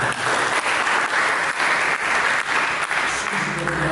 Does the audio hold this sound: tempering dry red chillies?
no